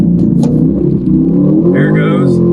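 C8 Corvette launching on drag radials with wheel hop, a loud continuous engine roar and rumble with rising revs throughout, with a voice talking over it.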